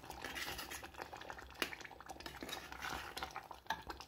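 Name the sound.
stirring pineapple pachadi in a pot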